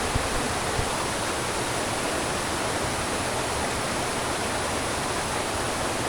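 Water rushes steadily down a creek in the Konkan countryside, a dense, even hiss with no break, close and fairly loud, with nobody talking.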